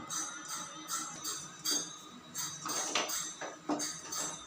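A spoon clinks and scrapes against a bowl while cucumber seeds are mixed into a laddu mixture, a quiet series of irregular taps and scrapes close by.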